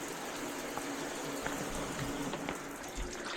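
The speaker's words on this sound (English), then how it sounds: "water flows." Steady water running through a cleared main drain line after a stoppage, a continuous close rushing wash with faint gurgles and no talking.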